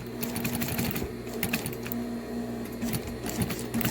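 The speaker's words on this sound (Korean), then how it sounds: "오늘은 이 미싱, 640 미싱에 대해서만 설명을 할 겁니다" A 640 industrial sewing machine made for stitching jeans runs steadily, a close, loud mechanical whir with a fast rapid needle clatter, brief pauses and restarts, and no talking.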